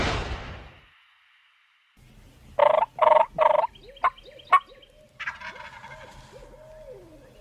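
A wild turkey gobbles in the open outdoors, three quick rattling gobbles in a row followed by a few sharper calls and a fainter distant gobble, set against quiet ambient air.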